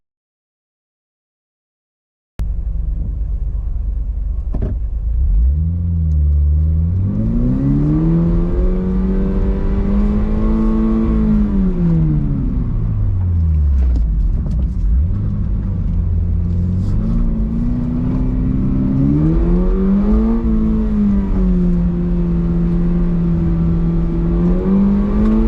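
A car engine revs hard during an autocross run, loud and close after a brief silence, pitch climbing and dropping repeatedly through gear changes and corners for about twenty seconds.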